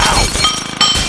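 Glass shattering in the Happy Wheels video game, a loud crash followed by tinkling shards and then a second burst of breaking glass.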